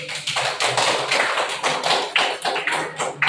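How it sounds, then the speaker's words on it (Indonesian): Classroom applause for a group presentation, a close burst of many hands clapping quickly and unevenly for about three seconds, with no talk. "Ibu kasih aplaus dulu lagi."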